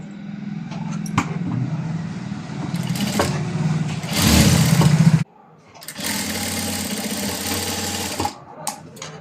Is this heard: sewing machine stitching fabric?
yes